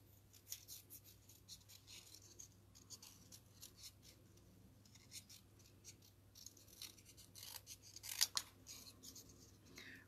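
Scissors snip through paper close around a stamped image, rounding off the corners in a paper-crafting project, with quiet, steady close-up cuts and a sharper snip near the end.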